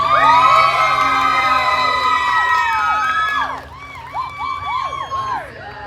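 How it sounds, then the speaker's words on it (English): A crowd at a ranch pin-girl contest erupts in loud whoops, screams and cheering, a dense wall of shrill voices that briefly dips, then returns in scattered bursts of high yelling. "give us the biggest, loudest round of applause you can"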